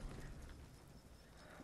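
A dapple horse in the samurai video game Ghost of Tsushima gives a short whinny over soft clip-clopping hooves, quiet and close, with no talking.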